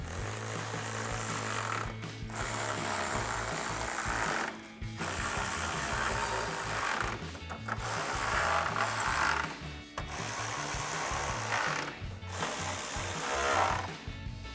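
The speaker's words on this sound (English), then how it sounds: "we'll take our 10mm socket to tighten these down" A 10mm socket ratchet tightens the bolts on Morimoto GEN2 XB LED headlights fitted to a RAM 1500 pickup, a close, steady clicking of repeated strokes broken by brief pauses every couple of seconds as the handle resets.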